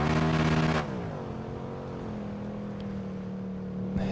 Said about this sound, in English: Just hit the limiter there completely